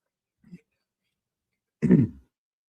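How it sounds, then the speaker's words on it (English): A single close throat clearing, a short rough rasp, follows a faint small vocal sound in an otherwise quiet room. "As I clear my throat."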